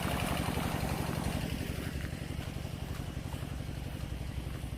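An engine-driven water pump at a farm in Suphan Buri, forcefully spraying water into a drainage channel: a steady, close, rumbling engine drone under a constant broadband rush, no speech.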